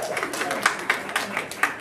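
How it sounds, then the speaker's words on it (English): An indoor audience at a county address in a senior center gives a round of applause, with rapid, evenly spaced claps from a modest crowd under a faint murmur of voices. "Yeah, come on, bigger round of applause"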